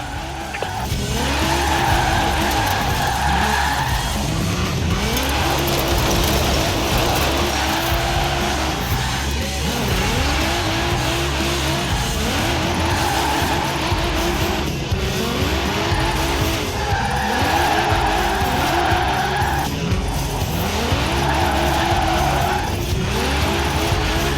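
In Forza Horizon 4, a car drifts continuously with loud, sustained tire squeal over a revving engine, its pitch rising and falling through repeated slides for a long stretch.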